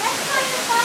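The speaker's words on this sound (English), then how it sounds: "I am at a little waterfall with Bacchus Boy 900." A small waterfall gives a steady, broad rushing hiss, close and continuous over a brief moment.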